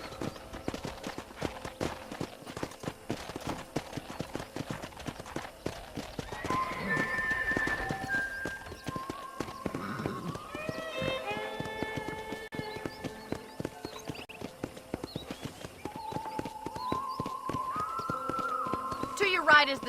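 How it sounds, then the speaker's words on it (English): Horse hooves clip-clop steadily while riding in the Red Dead Redemption video game, heard faintly under background game music and tones. "let's see if you can still ride a horse"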